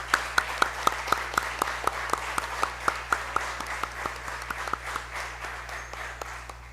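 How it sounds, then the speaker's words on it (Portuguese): Council members at a municipal chamber session in Bom Despacho are applauded by a small group, with sparse, evenly spaced claps that thin out over several seconds above a steady low hum in the room. "Uma salva de palmas para vocês."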